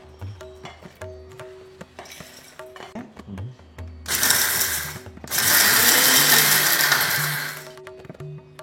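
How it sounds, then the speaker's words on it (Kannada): A kitchen mixer grinder (mixie) grinds roasted vangibath spice powder in its jar: two loud, steady whirring bursts, a short one and then a longer one, separated by a brief pause and preceded by faint handling clatter. "ಇವಾಗ ಇದು ಆರಿದೆ, ಮಿಕ್ಸಿ ಜಾರ್ಗೆ ಹಾಕೋತಾ ಇದ್ದೀನಿ."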